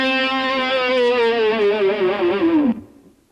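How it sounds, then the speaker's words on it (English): An electric guitar holds a single sustained note while the whammy bar is dipped down and wiggled, making the pitch waver and sag before it cuts off abruptly near the end; loud and close, with no talking. "hitting a note"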